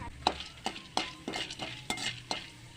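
Chana dal sautéed in a pan, a soft sizzle under a regular rhythm of utensil strokes scraping and tapping the pan about every half second, fairly quiet and close.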